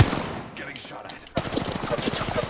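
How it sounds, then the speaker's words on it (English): Rapid automatic gunfire bursts in the Apex Legends video game, a quieter exchange first, then close, loud rattling fire that continues to the end, with game sounds mixed in. "Getting shot at."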